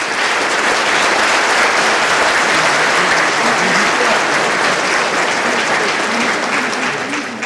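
Audience at a mayor's New Year address in Saint-Maur, Indre, applauding the green spaces team with loud, sustained, even clapping throughout, faint voices under it.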